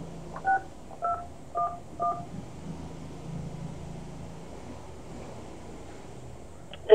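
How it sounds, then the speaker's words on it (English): Telephone keypad tones beep one after another as a hotline number is dialed, four or five short clear DTMF notes followed by a faint line hum. "According to the notice, I should call the hotline 16211."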